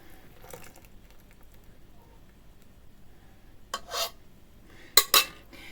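Gingerbread dough of flour and hot liquid being mixed fast in a bowl, with two short bursts of scraping and clinking near the end after a mostly quiet stretch.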